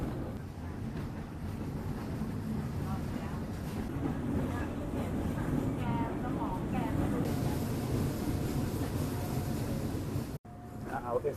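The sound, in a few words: train carriage rolling along Thailand's Death Railway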